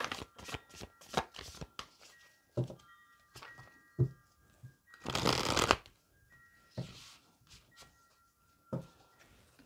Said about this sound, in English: While I'm shuffling the deck, really focus on your question.